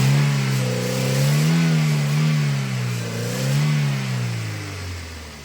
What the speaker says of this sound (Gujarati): હવે ચાલુ કરીને તમને ફાયરિંગ સંભળાવીએ